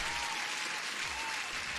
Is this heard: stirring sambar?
no